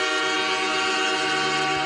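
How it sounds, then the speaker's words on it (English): A loud, continuous train horn sound effect blares through the whole stretch, steady and sustained with layered harmonic tones, played during a live sports card break stream. "I do play the train horns when people follow."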